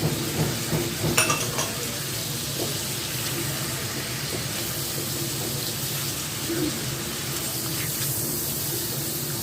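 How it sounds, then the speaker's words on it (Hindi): Finely chopped garlic sautéing in a pan beside mushrooms for chicken steak, a steady faint sizzle with occasional scraping and stirring clinks near the start. "फ़ौरन ही हम इसमें लहसुन बारीक चॉप किया हुआ डालेंगे और इसको तकरीबन 2 से 3 मिनट सौते कर लेंगे।"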